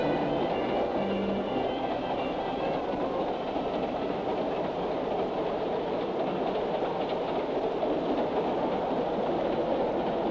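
A passenger train rolls through the lakes of northern Ontario with a steady, continuous rumble and faint rhythmic wheel clatter, unchanging and close throughout, with no voices.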